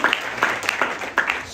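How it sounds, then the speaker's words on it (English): Applause at a Capitol Hill genocide commemoration: sharp, evenly spaced claps ring out at a steady beat over a brief moment, sparse rather than a full wave of clapping. "Round of applause for that."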